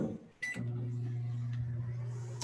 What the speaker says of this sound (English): I'm going to pop it into the microwave